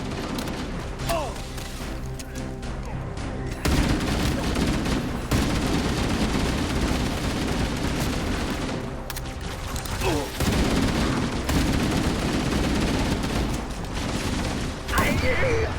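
Gunfire in the Halo video game, dense bursts of automatic fire and booms that run almost without a break under a steady roar, loud and close, with players talking over it.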